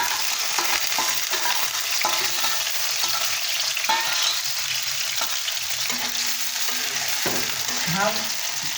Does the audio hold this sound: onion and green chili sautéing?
yes